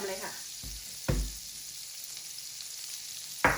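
Butter and garlic frying in a pan for butter garlic shrimp, a steady close sizzle with a few sharp knocks of a utensil against the pan.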